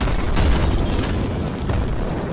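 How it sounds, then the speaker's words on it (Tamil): Three buses exploding one after another, rendered as a loud booming sound effect in a narrated story, with a heavy rumbling blast and further bursts rolling on for a couple of seconds. "3 பேருந்துகள் அடுத்தடுத்து வெடித்து மேலே பறந்து கீழே விழுந்தன"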